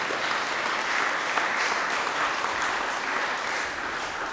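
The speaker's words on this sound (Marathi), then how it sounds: "आणि विशेष टाळ्या." Steady applause fills a church during a Confirmation Mass at Our Lady of Mercy Church in Merces, a sustained congregation-wide clapping that holds even for several seconds before easing slightly near the end.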